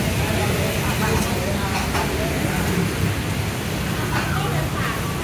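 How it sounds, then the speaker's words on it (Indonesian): Steady heavy rain hisses continuously over a street with passing traffic, and a voice speaks briefly in the mix. "Hujan sih."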